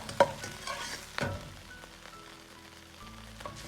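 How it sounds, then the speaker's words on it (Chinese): Minced meat stir-fried in hot scallion oil in a wok: a couple of sharp spatula scrapes and clanks over a low, steady sizzle, near and fairly quiet, with no talking. "油热后下入肉末，先煸炒出香味， 炒出肉末里边多余的水分"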